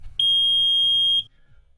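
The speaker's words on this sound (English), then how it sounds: "we're going to test the alarm just to make sure it makes noise." A homemade boat alarm sounds a single piercing electronic beep lasting about one second, loud and clean over faint low background noise.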